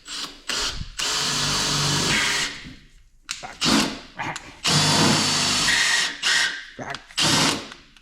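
Makita power drill running in bursts while removing fasteners from the inner wheel liner of a third-generation Firebird, with several long whirring runs separated by short pauses, loud and close, with brief talk in between.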